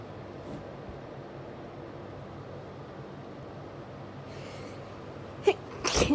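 Hay fever sneezes burst out close and loud near the end, one sharp sneeze followed quickly by a second, after several seconds of quiet room hiss.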